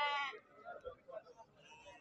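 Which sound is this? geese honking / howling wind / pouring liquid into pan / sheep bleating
sheep bleating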